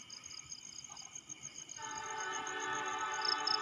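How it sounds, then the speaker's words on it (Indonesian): The Turangga passenger train of Indonesian railways passes close by, a rising rumble of wheels and carriages under a sustained high whine, growing louder and steadier as it rolls past. "Ya inilah kereta api Turangga."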